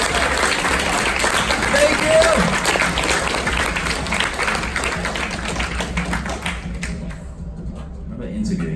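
Sustained audience applause fills a convention hall during a Godzilla YouTuber panel at G-Fest XXVI, dense and steady clapping that fades toward the end, with a voice briefly speaking over it.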